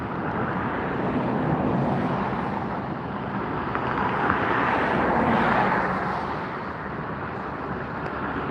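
An airliner arriving on the runway at LAX at sunset gives off a steady, broad roar of jet noise that holds continuously near the field and swells slightly toward the middle before easing off.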